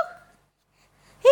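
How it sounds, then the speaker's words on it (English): A single short, sharp hiccup sounds close up at the very end, after a faint trailing sound at the start and a near-silent pause. "Oh no, you got hiccups."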